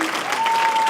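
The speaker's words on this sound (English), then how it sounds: "clap it up for yourself" Loud, dense clapping from an audience at a movement gathering, close and continuous for the whole second, with a steady tone ringing faintly underneath.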